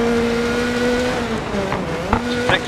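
A Hyundai i20 WRC rally car engine in Dirt Rally holds a steady high drone that dips as the car brakes, then lifts again, with short tire-scrub bursts near the end.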